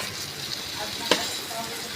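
Okra (bhindi) frying in hot oil in a wok, a continuous soft sizzle with a sharp clink of the spatula about halfway through.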